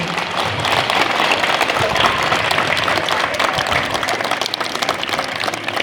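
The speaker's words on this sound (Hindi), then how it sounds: "जोरदार ताली से बच्चे आपका स्वागत करेंगे" Continuous audience clapping welcoming MP Sukhdev Bhagat at a school event in Lohardaga, steady and loud throughout with a dense crowd texture and no pauses.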